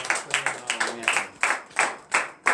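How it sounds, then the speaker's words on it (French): Congregation clapping in acclamation at a morning prayer service in Benin, sharp rhythmic handclaps about every third of a second, close and fairly loud, with faint sustained tones underneath. "Donnez l'acclamation à notre Seigneur Jésus"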